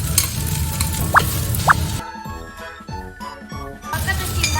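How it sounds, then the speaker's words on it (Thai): Cooked rice being stirred into fried shrimp paste in a hot pan, with steady sizzling and scraping broken by a few sharp clinks of a utensil against the pan, heard close up without talk. "แล้วก็จะเอาข้าวเทลงไปเลยค่ะแล้วก็คนให้ข้าวกับกะปิเข้ากันนะคะ"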